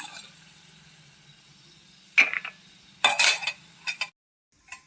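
Roasted peanuts fried in sesame oil are tipped into a bowl in a home kitchen, two or three short, close rattling bursts of nuts and scraping against the vessel, with no talk.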